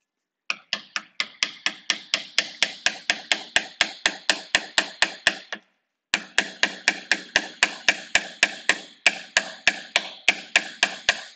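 Hand carving of wood with chisels struck aggressively to chip off large bits, producing a sharp, regular series of close knocks about twice per second, with a short pause midway.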